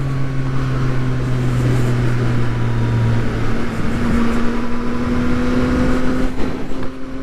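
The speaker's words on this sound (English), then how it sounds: "My first wheelie of the day." Yamaha MT-09 SP motorcycle engine lifting into a wheelie, a loud steady drone with sustained engine tones that shift pitch midway as the bike pulls, constant and close with wind-like noise throughout.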